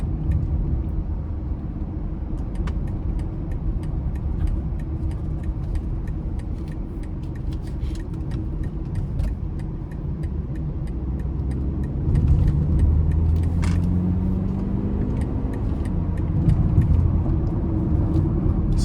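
A 2020 BMW X3 xDrive30i accelerating out of a corner from inside the cabin, a steady low engine and road rumble that swells as revs climb near the end, no talking.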